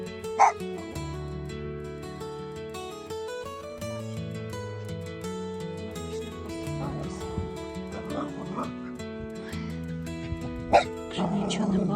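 A dog yips and barks in short bursts over music at a lavender field, with a person's voice speaking nearby.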